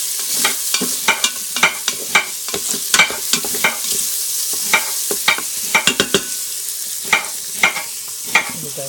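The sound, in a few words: bacon frying in pot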